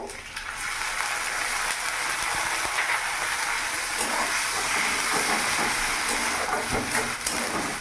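A paste of onion, ginger, garlic and green chilli sizzles loudly with fried onions in a hot pan, giving a steady, close, hissing fry with occasional crackles and light stirring.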